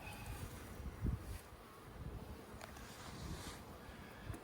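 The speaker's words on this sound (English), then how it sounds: "This is more bees up here than we typically see." Faint, low buzzing of many honey bees around a hive hums continuously under soft wind noise, with a brief louder thump partway through.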